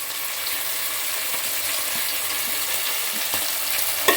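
Onion and tomato frying in oil in a home kitchen pan, a steady dense sizzle with faint stirring scrapes and small pops running throughout, close and continuous with no talk.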